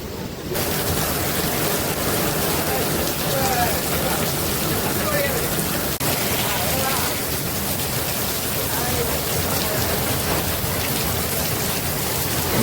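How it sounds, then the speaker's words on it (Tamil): Sudden heavy rain at Varkala beach in Kerala, a dense steady hiss of downpour drumming on surfaces, loud and continuous from beginning to end. "எதிர்பாராமல் படபடன்னு மழை பெய்ய ஆரம்பிச்சிருக்கு"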